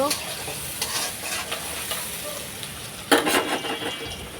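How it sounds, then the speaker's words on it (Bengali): Tilapia fish frying in a pan with tomato, heard as a continuous hiss of hot oil with a few soft stirring sounds and a sharper sizzling burst near the end. "তেলাপিয়া মাছ টমেটো দিয়ে ভুনা করব"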